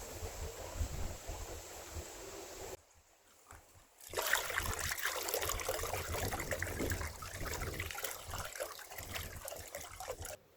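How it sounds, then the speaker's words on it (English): Distilled water pours and trickles steadily over a battery being rinsed, cutting out briefly for about a second before a louder, splashier stream resumes and runs on. "And now the final rinse, I'm just going to use distilled water."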